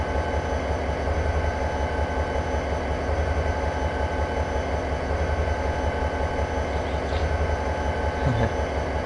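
A freight train on Cajon Pass in a Train Simulator game rumbles steadily with a low mechanical drone as its brakes come on, a faint squeal rising near the end, continuous and moderately loud.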